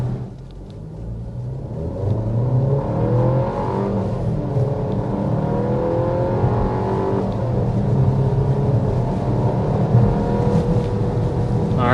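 A 2025 Volkswagen Tiguan accelerates in sport mode with some turbo lag, giving a steady interior engine rumble that builds and swells over about twelve seconds without talk.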